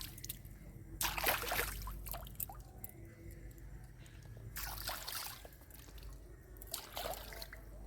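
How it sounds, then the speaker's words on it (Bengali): Large fish are rinsed in water one by one, with intermittent splashes and sloshing bursts alongside drips and trickling, close and moderately loud, with a faint background hum and no talking. "এইভাবে আমি এক এক করে সব মাছগুলোকে সুন্দর করে ধুয়ে নিচ্ছি।"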